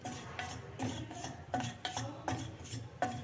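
Sprouted ragi flour is stirred and dry-roasted in a pan over a low flame, with soft rhythmic scraping strokes repeating about every half second, close and fairly quiet.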